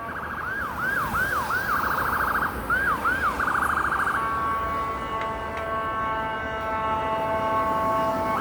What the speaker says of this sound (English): Sounds like there's some more sirens coming this way.